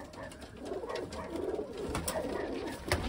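Soft cooing of Dereš pigeons nearby, low rolling calls overlapping, with light rustling and a few faint sounds in the background.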